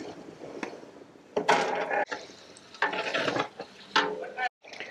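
Garlic paste and vegetables fry in a large wedding-scale batch for pulao, heard as bursts of loud scraping and stirring with sizzling between them and a brief gap near the end.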